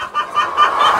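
White poultry hens cluck close and loud in a short, continuous burst of throaty calls.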